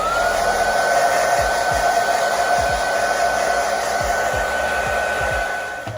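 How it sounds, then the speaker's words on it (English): A hair dryer blows steadily and loudly over a lace wig, a continuous whooshing airflow with a constant motor whine, running alone without talk for the full stretch before easing off at the end. "I'm gonna just blow dry it a little"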